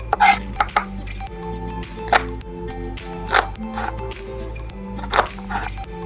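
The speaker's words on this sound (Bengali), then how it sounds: "ভেজ ডালের জন্য বিনসগুলোকে কেটে নিচ্ছে" A knife chops green beans on a cutting board for a Bengali vegetable dal, giving sharp, irregular cracking thuds with pauses between cuts, close and clear, with faint background hum.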